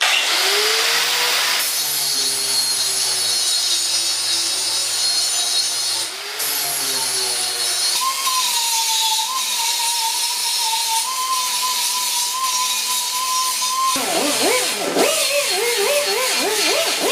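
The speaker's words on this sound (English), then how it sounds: "there's the grinding." A power grinder works over a welded front bumper on a 1976 Mazda RX, whining loud and close with pitch shifts as the disc bites and eases off across several passes.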